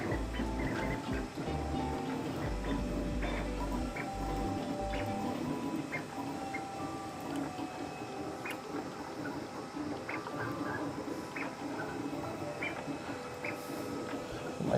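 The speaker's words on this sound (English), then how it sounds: "if the printer's going to print loudly, you might as well enjoy it." A Voron Trident 3D printer is running a print, its stepper motors whining in shifting tones with small clicks and rattles, a steady mechanical drone at moderate loudness.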